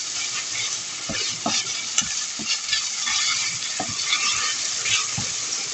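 Homemade Cantonese fried rice fries over very high heat in a pan, with a continuous close sizzle broken by repeated scraping stirs of a utensil. No one speaks.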